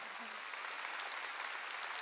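Church congregation clapping during a Sunday worship service, a dense continuous patter of many hands at a moderate, even level.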